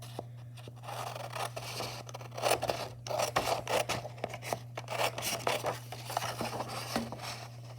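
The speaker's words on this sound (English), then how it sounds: "I'm going to cut it out along the front line instead." Scissors cutting a vase shape out of paper, close and clear, with a run of quick snipping and slicing strokes of uneven rhythm over a low steady hum.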